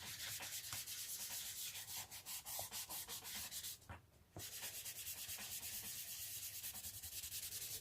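A paper towel is rubbed firmly over pastel colouring to blend it, making a rapid, continuous scratchy rubbing with quick strokes, close and steady, with a brief pause midway.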